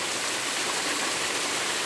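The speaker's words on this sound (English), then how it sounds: "we've got that leading line as the water cascades over the top, splashes down on the rocks" Waterfall among green ferns and mosses, water cascading over the top and splashing onto rocks below; a steady, dense rushing roar with no voices.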